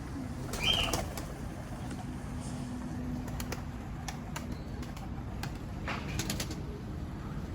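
Faint, scattered clicking and fluttering of tumbler pigeon wings over a steady outdoor hiss, with a brief chirpy call near the start.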